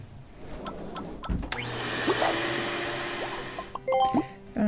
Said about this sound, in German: Ich finde, für mich klingt das immer wie ein Staubsauger.